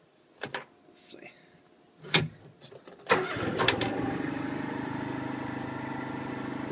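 A gasoline Kubota RTV 500 utility vehicle engine cranks and catches after a few clicks and clunks, then settles into a steady close idle; a voice speaks briefly beforehand.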